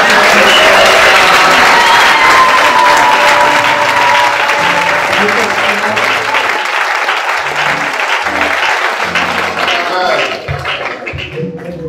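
A church congregation applauds and cheers in sustained, loud clapping that fills the room, gradually thinning toward the end, with voices mixed into the crowd noise.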